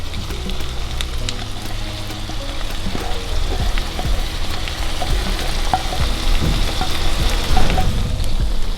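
Corn sizzling and frying with onions in a pan for a creamy corn dish, a continuous loud crackle with scattered pops and spatters and occasional stirring scrapes throughout.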